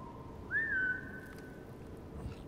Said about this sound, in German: Ich will nicht pfeifen, hör auf zu pfeifen.